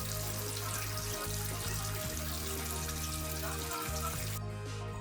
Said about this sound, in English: Add water when lava stones are placed properly.